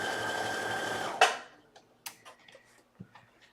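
A sewing machine runs fast and steadily for about a second while sewing a placket on a garment, then stops, followed by a few scattered light clicks and taps.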